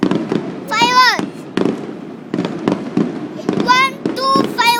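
Fireworks bursting during a New Year celebration, a series of booms and crackles spread through the clip, while people talk and exclaim over them.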